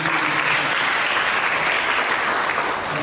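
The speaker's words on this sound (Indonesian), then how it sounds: "Berikan tepuk tangan dulu." Church congregation at a sermon breaks into dense, steady applause that stays loud and even for about three seconds.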